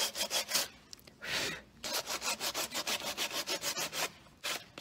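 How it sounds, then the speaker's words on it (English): Coarse sandpaper rasps back and forth across wood in quick, regular strokes, with a few brief pauses, close and fairly loud. "And then I'm just going to sand round the corner."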